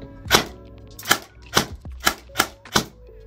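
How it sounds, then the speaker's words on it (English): A KWA QRF Mod 3 airsoft gun, with a feeding fault that makes it skip, fires six sharp, close, evenly spaced snaps into a pillow, with no talking. "So I'm just gonna shoot it into the pillow down here."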